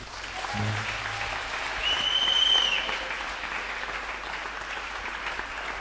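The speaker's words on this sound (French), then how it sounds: "Tu vas acclamer, acclame bien." A church congregation at a December 31 service applauds and cheers in a broad, sustained wash of clapping that swells slightly in the middle, with a few voices calling out within the crowd.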